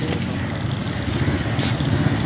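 A second train rolls into a busy station with a steady, loud rumble and broadband roar, continuous throughout with no voices in the foreground.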